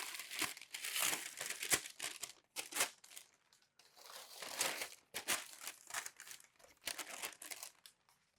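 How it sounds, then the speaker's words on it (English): Packing paper crumpled and unwrapped during step stool assembly, a long run of close, crackly crinkling and tearing in irregular bursts with brief pauses, no talking. "we're going to start by taking out the packing paper and opening it up"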